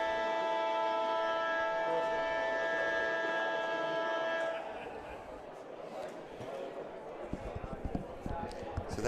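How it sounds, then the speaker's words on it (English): A siren sounds at the end of a round in a lawn bowls pairs tournament: a loud, steady multi-tone wail that holds for about four and a half seconds, then cuts off and leaves quieter ambient noise. "So that's the siren gone."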